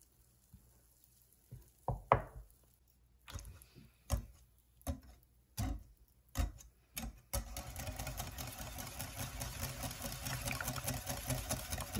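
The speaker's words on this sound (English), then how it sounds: "And whisk that all up good." A whisk beats a mixture of vanilla, cinnamon and maple syrup in a bowl. First come scattered, close taps, then a steady, rapid whirring clatter that carries on to the end.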